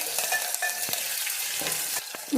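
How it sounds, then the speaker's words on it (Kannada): Dried red chillies and spices for a sambar tempering crackle and sizzle steadily in hot oil, with small pops and a few scraping stirs, close and continuous with no talking. "ಒಗ್ಗರಣೆನೂ ಫ್ರೈ ಆಗಿದೆ ಸಾಂಬಾರ್ಗೆ ಸೇರಿಸ್ಕೊಳ್ತೀನಿ"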